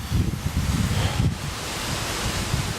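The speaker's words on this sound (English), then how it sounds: "It's wind audio." Wind buffeting an outdoor microphone, a loud low rumbling roar that swells in gusts and then settles into a steadier rush.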